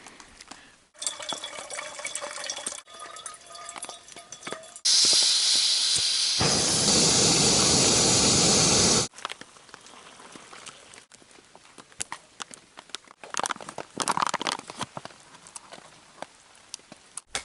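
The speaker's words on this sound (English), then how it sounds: "a continuous, light rain like this wouldn't be so bad" Light, continuous rain falls on the Appalachian Trail in Maine during an overnight hammock camp, heard as a soft patter that swells into a dense, loud hiss for several seconds before easing back to scattered drips.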